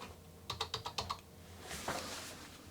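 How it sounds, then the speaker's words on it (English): Typing on the keyboard of an Amstrad NC100 Notepad computer: a quick run of about eight crisp, close keystrokes, then a pause and a softer rustle, with no talking. "So let's type on the other machine now."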